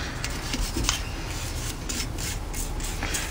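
A swab rubs and scrapes over an AR-15 rifle bolt, a steady close rasping scrub with quick repeated strokes and faint metallic ticks.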